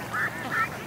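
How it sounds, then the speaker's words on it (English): Ducks at a lake in the early morning give two quick nasal quacks in close succession, near and clear. "Ducks at the lake."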